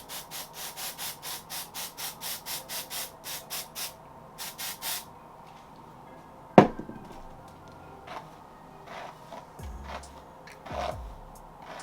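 A spray bottle mists a shiny lace wig on a mannequin head to tone down its shine. About a dozen quick, rhythmic hissing pumps come close together, followed by a sharp knock and faint handling noises.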